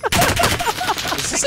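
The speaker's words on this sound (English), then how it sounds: "Is this a shotgun?" Shotgun blasts from Call of Duty: Warzone gameplay come as a rapid string of sharp, loud reports, roughly one every fifth of a second, filling the short moment.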